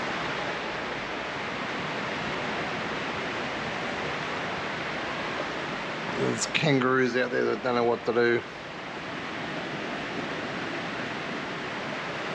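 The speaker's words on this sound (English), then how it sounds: "It's pouring, there's lightning" Heavy rain pouring and drumming down outside a Jayco motorhome during a thunderstorm, a loud steady roar throughout, with someone speaking briefly partway through.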